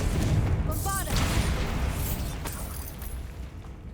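Bombarda blasting spell explosions in Hogwarts Legacy, a string of bursts and booms with ringing magical tones, loud and close, with voices calling out over the blasts.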